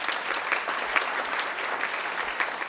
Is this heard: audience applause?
yes